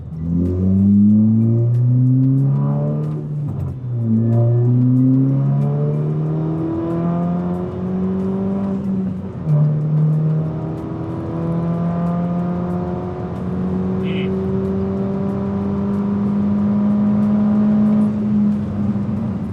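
Car with an 034 Stage 2 tune accelerating hard, its engine climbing through the revs in several rising sweeps as it shifts gears, loud and close from inside the car, with no talk.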